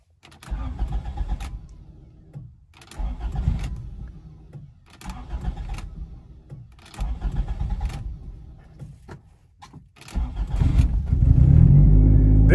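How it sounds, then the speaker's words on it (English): A Honda engine with faulty injectors cranks in several short bursts, then catches and settles into a loud, rumbling idle, heard close by with no talking. "From here, we're going to start the car."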